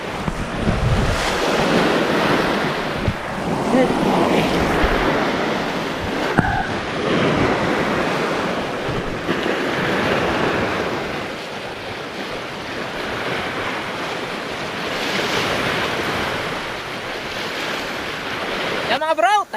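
Large ocean waves crash and roar against rocks along the shore, a continuous loud surging wash with heavy wind buffeting the microphone, no talking heard.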